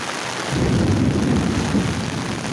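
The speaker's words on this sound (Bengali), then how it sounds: "মেঘের গর্জন" Low thunder rumbles under a steady downpour in the Eastern Housing area, a deep rolling swell rising after half a second and fading slowly beneath the constant rain hiss, with no speech.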